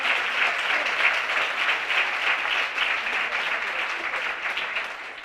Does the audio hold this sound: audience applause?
yes